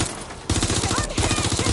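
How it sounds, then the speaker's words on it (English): Automatic gunfire in Watch Dogs Legion: a short, loud, rapid rattle of shots in quick rhythmic bursts, close and continuous. "Taking fire. They're shooting."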